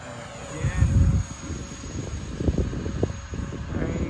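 An E-flite SU-30 radio-controlled model jet flies overhead in Utah, its motor whining and rising and falling in steady passes, loudest early on, over open-air background noise.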